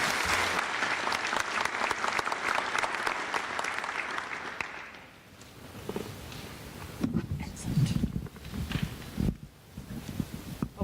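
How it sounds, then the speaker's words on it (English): An audience at an aviation event on remotely piloted aircraft applauds distinguished guests with dense, sustained clapping for about five seconds. It then fades into quieter room noise with scattered thumps and shuffling. "I would like to give a round of applause to my distinguished guest"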